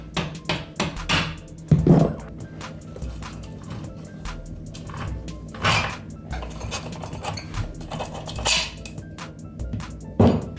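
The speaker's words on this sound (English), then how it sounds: "It's nice to have a little rubber hammer just to kind of break it loose." Several sharp rubber hammer knocks and taps ring out at irregular intervals on a Honda Grom motorcycle axle, with metallic clanks and rattles in between, close by.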